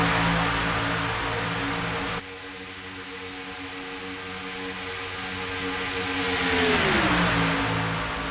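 Race cars roaring around Talladega, several engines droning together in a tight pack, a sustained loud hum that swells and then falls in pitch as the cars pass by.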